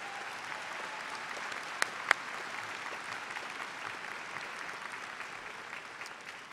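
A large audience at the 2015 Hofstra University undergraduate commencement applauds, a dense, even wash of many hands clapping from some distance, sustained throughout with a couple of sharper claps.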